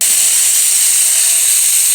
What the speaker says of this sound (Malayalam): നമ്മുടെ കുക്കറിന് ചിക്കൻ 4 വിസിൽ വന്നേ